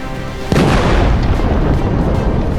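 A combat vehicle explodes after a drone strike: a sudden heavy boom bursts in about half a second in, then a loud, rumbling roar that sustains without fading to the end.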